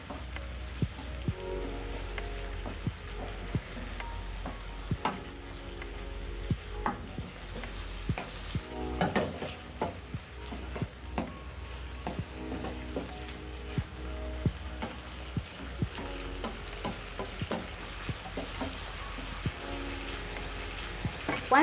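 Beef noodles stirred and frying in a pan with light soy, dark soy and oyster sauce, a soft continuous sizzle broken by frequent sharp scrapes and clacks of the utensil against the pan, close and moderately quiet, no talk.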